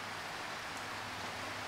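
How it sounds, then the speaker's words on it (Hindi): Heavy rain falls outside in a dense, even hiss, a steady wash of sound with no break and no one speaking. "पूरी बारिश लगी हुई है बाहर।"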